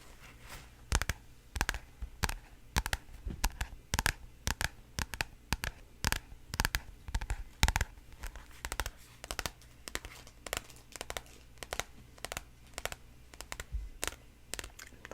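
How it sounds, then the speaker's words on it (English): ASMR tapping and paper crinkling, close and quiet, with sharp irregular taps and crisp rustles repeating in quick clusters throughout, no speech. "I'm just going to make some paper sounds and some tapping sounds"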